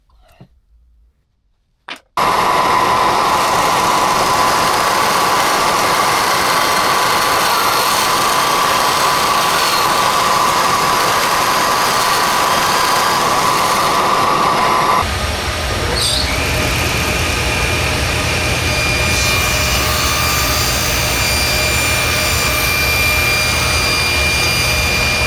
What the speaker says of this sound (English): I'll show you how I use the router to sort of clean that up.